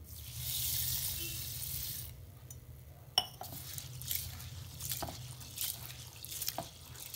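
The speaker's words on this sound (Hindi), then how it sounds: "अब इसे हम पानी से पहले धो लेंगे, दो तीन पानी से हमें धो लेना है दाल।" Moong and urad dal lentils being washed in water by hand: running water, then sloshing, light splashes and a few clinks from a vessel, close and fairly quiet, with no talk.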